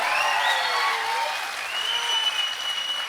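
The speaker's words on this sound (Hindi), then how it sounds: "तालियां कमजोर है," Audience applause fills Shah Auditorium in Delhi during a motivational talk, a steady wash of many hands clapping at moderate distance, sustained for the whole stretch with a faint crowd murmur.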